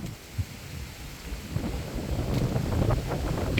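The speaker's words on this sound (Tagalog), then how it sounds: "Ngayon, ang hangin nito ay amihan pa, amihan." Gusty amihan wind blows at the coast ahead of a typhoon, buffeting the microphone with a low roaring rush that swells louder and rougher toward the end, with no voices.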